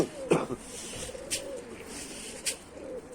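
Tumbler pigeons coo outdoors, a soft low rolling coo under a few sharper chirps and brief wing flutters, moderately near against a quiet background.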